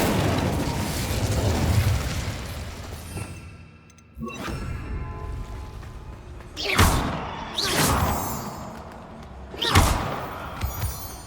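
Spell blasts from Confringo and Incendio in Hogwarts Legacy, heard as three loud bursts with whooshing fire, spaced a few seconds apart over a rumbling background.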